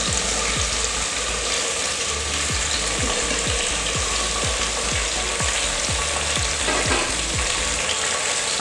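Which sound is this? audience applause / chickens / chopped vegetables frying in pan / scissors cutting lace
chopped vegetables frying in pan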